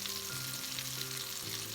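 Beer batter onion rings fry in hot oil, giving a steady dense crackling sizzle with a faint low hum beneath, close and continuous, no voice present.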